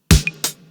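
Two short synthwave drum hits, a punchy kick-and-snare pair, processed through a saturator, EQ Eight and glue compressor in Ableton Live 12, each followed by a low sustained tail.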